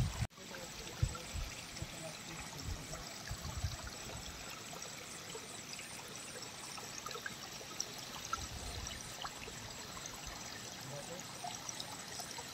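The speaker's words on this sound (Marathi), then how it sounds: "अच्छा बघा पाणी कसं" Rainwater trickles and flows in a village during the rainy season, a quiet continuous wash with a few soft knocks near the start.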